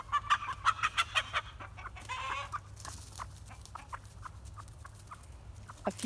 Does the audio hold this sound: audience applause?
no